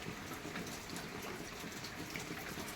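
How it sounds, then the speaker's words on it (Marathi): Heavy monsoon rain pours down in a rural Jalna district area, a steady dense hiss of falling water, fairly faint and continuous without any voices. "असा आहे पाऊस"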